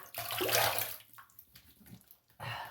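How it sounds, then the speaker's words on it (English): Running water splashes as a face is rinsed after a wet shave with a boar brush, short bursts of close splashing broken by pauses. "let's rinse up"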